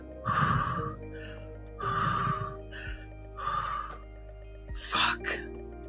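Shaky, ragged breathing from a woman, five separate gasping breaths with trembling, uneven inhales and exhales spaced by short pauses, close and alone over a faint steady hum.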